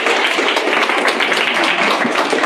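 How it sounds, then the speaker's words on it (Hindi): Students in a live coaching class clap together in a brisk, steady patter of applause that fills the room throughout. "तालियां हो जाएं।"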